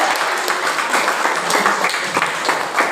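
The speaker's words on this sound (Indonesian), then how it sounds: "kita tepuk tangan buat Pak Agung." An audience applauds a guest lecturer at a public lecture on education, with steady, dense clapping from many hands filling the room, fairly loud and unbroken throughout.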